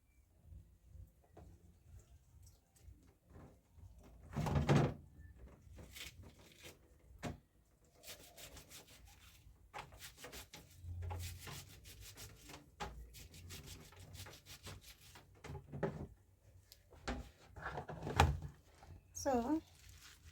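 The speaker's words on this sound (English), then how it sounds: "So we're cutting our greens." A knife slices through African traditional greens such as mrenda in a home kitchen, with scattered crisp cutting and rubbing strokes at an uneven pace, some louder thumps, and a voice talking between the cuts.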